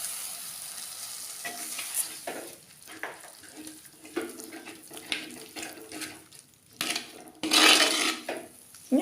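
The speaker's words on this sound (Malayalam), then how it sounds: "ഒരു നെല്ലിക്ക വലുപ്പത്തിലുള്ള പുളി കലക്കി വെച്ചിട്ട് അത് ഒഴിച്ചു കൊടുക്കണം" Tamarind water poured into a sizzling sardine curry masala in a pan: intermittent sizzling and stirring, then splashy pours that flare into a louder, fizzing hiss near the end.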